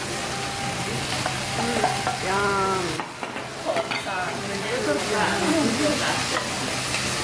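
Rice being stir-fried in a wok at a Thai cooking class in Bangkok: steady, close frying sizzle with scraping and stirring, brief clanks of the utensil against the pan, and faint voices in the background.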